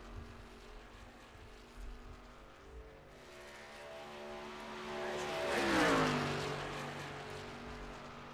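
A race car in the iRacing sim on its first qualifying lap exits turn four, its engine note rising and swelling as it passes close, then fading, over low background hum.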